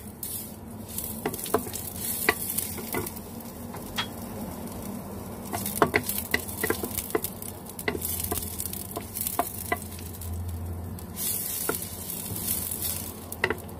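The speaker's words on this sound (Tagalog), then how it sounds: "Mainit na guys itong ating kawali, ang ating mantika ay lagay na po natin ang ating luya" Ginger sizzling in hot cooking oil in a wok, a constant hissing fry broken by sharp metallic taps and scrapes of a spatula against the pan, with brief louder bursts of crackle.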